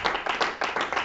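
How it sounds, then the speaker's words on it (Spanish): A church congregation clapping in steady rhythm during a year-end farewell service, several loud, close bursts of hands in about a second. "Denle un aplauso al Señor, por favor."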